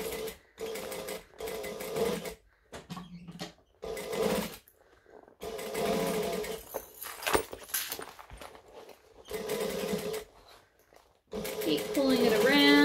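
A sewing machine stitches binding in short bursts of whirring, stopping and starting repeatedly while someone talks over and between the runs.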